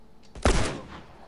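A single sharp gunshot blast in the Grounded video game, loud and close with a short decaying tail, standing alone with no talking.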